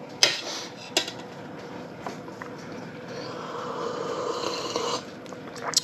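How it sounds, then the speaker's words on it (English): Spoon clinking in a cup of instant coffee, a few sharp taps against the rim followed by softer scraping stirring, close by. "Stir it up a bit."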